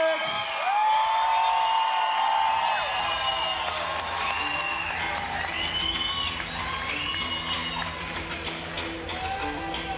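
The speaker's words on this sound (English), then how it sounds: "Let's hear it for Merina Alix." A fight-night crowd at a cage event cheers, whoops and applauds loudly and steadily as a Muay Thai kickboxer is introduced, with shouts and whistles rising over the roar throughout.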